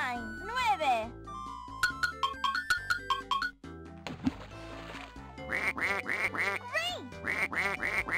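Cartoon ducks quacking in a Dora the Explorer game, a series of bright, rhythmic quacks in repeated bursts alongside chiming musical tones, with a voice heard in between.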